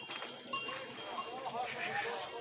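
Sheep bleat amid a busy livestock fair in Sertânia, with a cowbell clanking and people talking in the background throughout.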